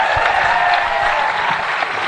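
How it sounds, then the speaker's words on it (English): A live podcast audience applauds the guests, a dense steady patter of clapping from a crowd, loud and continuous. "Let's have a round of applause for the guys."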